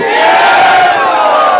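A crowd at a political gathering in Sikandar Goth, Karachi shouts a slogan back in unison, one loud, close, sustained collective cry.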